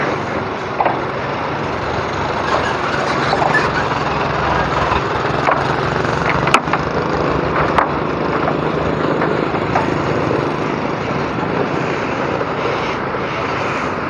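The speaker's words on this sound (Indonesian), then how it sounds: "lewatkan truk ini dulu ya" A heavy truck rumbles past on a badly damaged road between Sungai Pinang and Sungai Rangas, its engine a steady, loud drone that holds for the whole stretch.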